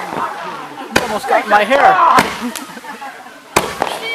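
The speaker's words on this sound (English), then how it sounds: "Those are active fireworks." Fireworks land nearby and go off in three sharp, loud cracks spaced over a few seconds, while people talk and exclaim through most of it.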